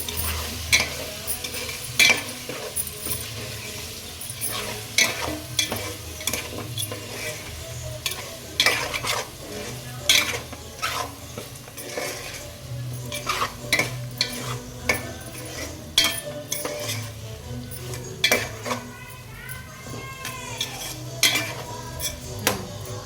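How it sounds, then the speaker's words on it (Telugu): Chicken fries in a pan with turmeric as a spoon stirs it, metal utensil scrapes and clinks ringing out repeatedly over a steady close sizzle throughout. "మంచిగా ఫ్రై అయిందండి."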